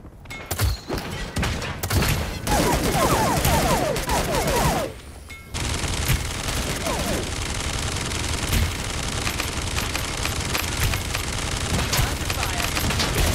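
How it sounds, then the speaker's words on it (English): Video game gunfire inside a building: loud, continuous bursts of rapid machine-gun fire and shots with heavy thumps, briefly dropping off before the barrage resumes. "I'm getting shot here in the building."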